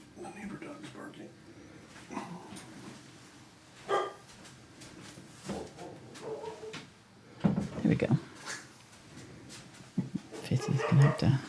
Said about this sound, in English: The neighbor dog's barking.